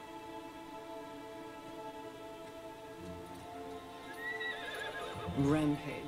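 A horse in the video game Darksiders 3 gives a loud whinny near the end, with hoof clip-clops and a soft rain-like ambience beneath. Someone speaks briefly.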